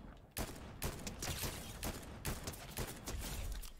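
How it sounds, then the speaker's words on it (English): Video game gunfire: rapid bursts of shots crackle in quick irregular succession throughout, fairly faint, with no voices over them. "Someone's shooting at us."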